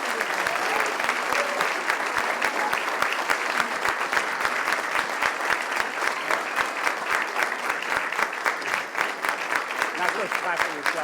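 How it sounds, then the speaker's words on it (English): An audience at a township council meeting gives sustained, dense applause, with many hands clapping steadily and loudly nearby for about eleven seconds. A voice speaks over the clapping. "one more hand, a round of applause."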